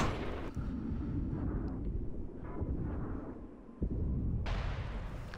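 A tank cannon booms in World of Tanks, a heavy blast with a rumbling tail, followed by a second sharp report near the end amid steady engine and battlefield rumble.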